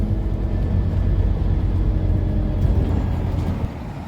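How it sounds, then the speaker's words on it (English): Inside a replacement bus running for the closed Rochdale line, a low steady engine rumble and road drone fill the cabin, with small bumps and rattles and no one speaking. "we're going to be on this bus for a while"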